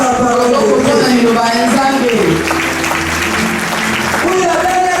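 A church congregation applauds during a worship service, a steady wash of clapping over sustained tonal voices or music, loud and filling the space for the whole stretch.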